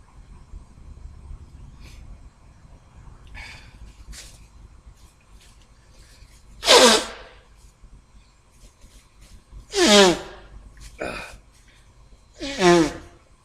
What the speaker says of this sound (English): I guess I'm going to have a sneeze attack here.